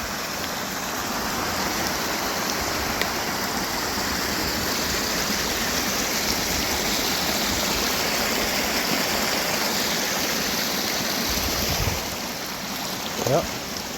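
Creek water on a rainy day rushes in a loud, continuous broadband roar that fills the scene, with a faint voice briefly surfacing near the end.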